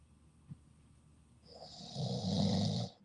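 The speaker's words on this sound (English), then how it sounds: "Who the hell is that snoring?" A person snores over a phone call, one faint snort followed by a long, rising rasp that swells and cuts off, heard at low level through the line with no one speaking.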